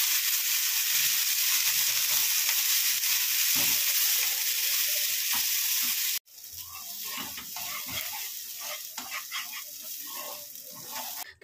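Spice paste hits hot ghee with a loud, steady sizzle, then drops abruptly to a quieter crackling with scattered pops and stirring scrapes, no talking.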